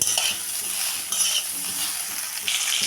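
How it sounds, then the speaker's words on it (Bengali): Soybean chunks frying in a pan until golden brown give a steady, dense sizzle, with light clinks of a utensil against the pan running through it and no one talking. "এখন আমি সয়াবিনটাকেও একটু ভেজে নেব একটু গোল্ডে ব্রাউন করে একটু ভেজে নেব"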